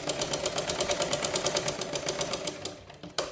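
An electric sewing machine stitches fabric for a dress in a steady, fast rhythmic rattle of needle strokes, close and clear, slowing and stopping near the end with a small click.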